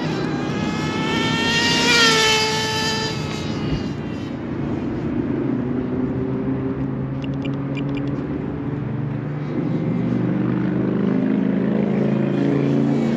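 An HPI RS4 Super Nitro RC car's nitro engine runs at a sluggish, untuned state, a continuous buzzing whine that rises and falls in pitch as the throttle changes, fairly close and heard alone.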